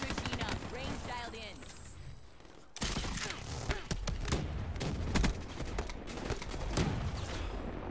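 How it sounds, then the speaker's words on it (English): Rapid bursts of launcher fire from a War Machine in a first-person shooter game, a dense continuous barrage after a short gap, loud and close amid other game sounds. "I had my war machine. I was shooting him."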